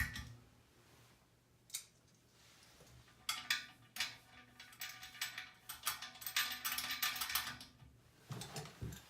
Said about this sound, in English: You can use a socket or a wrench. Sockets are kind of handy.